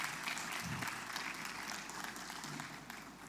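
An audience at an opera gala evening during the COMFESA North West International Symposium applauds a guest, with continuous, fairly faint and distant clapping from a crowd.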